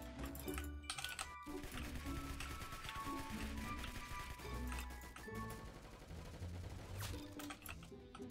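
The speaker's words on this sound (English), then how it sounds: "Do not shoot me with that musket." Rapid gunfire and crashing hits from a musket and other weapons in the Roblox shooter Arsenal, with dense overlapping shots, clicks and impacts sounding loud and continuous throughout, tightly packed bursts without pause.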